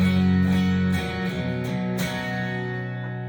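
A clean electric guitar rings out with sustained chords and a few plucked notes, clear and close, without distortion.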